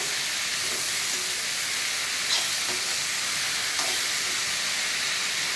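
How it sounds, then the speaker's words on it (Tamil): Tomatoes and onion sauté in a pan for Malabar biryani, giving a steady, moderately faint sizzling hiss with a few soft stirring clicks and no talk. "தக்காளி நல்லா வதங்கிட்டோம்."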